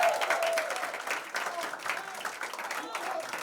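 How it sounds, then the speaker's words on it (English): Audience clapping for themselves at a college promotional event, dense broadband applause filling the whole stretch, steady and fairly close, with some voices and cheering mixed in. "Please clap for yourself."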